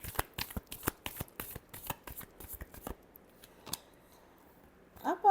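Tarot cards are shuffled in a rapid series of crisp riffling snaps for about three seconds, followed by a few scattered card taps and a brief rustle at the end.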